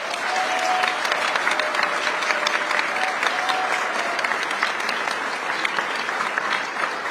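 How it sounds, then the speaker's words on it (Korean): A crowd at a Korean community welcome event in San Francisco claps warmly for the visiting South Korean president, a dense, unbroken wall of applause lasting several seconds without speech. "이재명 대통령께 뜨거운 응원의 박수 부탁드리겠습니다."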